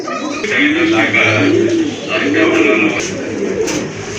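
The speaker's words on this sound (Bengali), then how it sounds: "এই যে দেখেন কবুতরগুলো কিন্তু মাশাআল্লাহ অনেক ডাকে" Caged pigeons coo close by in repeated low, rolling calls that overlap through the whole stretch, with a person talking over them.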